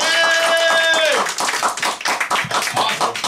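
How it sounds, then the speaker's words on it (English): After a guitar performance at a music shop's Irish Fling event, a held guitar note fades and a small audience claps in quick, close rhythm while voices call out over it. "give CJ another really big hand of applause for playing this thing"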